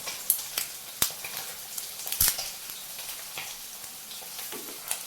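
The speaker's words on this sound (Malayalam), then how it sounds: "ചെമ്മീൻ രണ്ട് സൈഡും നന്നായി ഫ്രൈ ആയി വന്നിട്ടുണ്ട്" Prawns fry in a pan with a steady, bright sizzle and occasional sharp pops and crackles, heard up close and alone for about five seconds.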